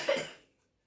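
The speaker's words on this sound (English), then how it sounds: "I'm sorry, I have a cough." A single short cough, fairly faint and quickly fading, with no other sound around it.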